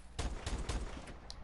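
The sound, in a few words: Mors semi-automatic rifle firing in the video game Apex Legends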